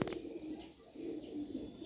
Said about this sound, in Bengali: সুপার সুপার থেকেও দুপার কবুতর এটা